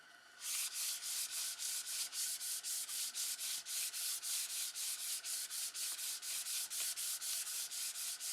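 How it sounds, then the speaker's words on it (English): Hand sanding a wooden piece with 320 grit sandpaper before sealing: steady, rapid back-and-forth rasping strokes, close and evenly paced, continuing without pause and with no talking. "I'm just gonna do this by hand. It's 320 grit."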